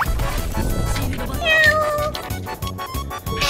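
A human voice imitates a cat, giving a few drawn-out meow-like calls amid game sounds and background noise during a live-streamed Apex Legends match.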